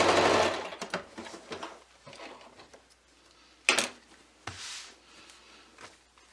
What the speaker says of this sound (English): I'm just going to keep sewing this